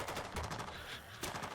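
Gunfire from soldiers shooting zombies in the video game Dead Rising 2, a rapid run of automatic shots in a dense, continuous burst, fairly faint and with no talking.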